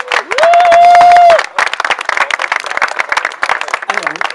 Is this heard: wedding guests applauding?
yes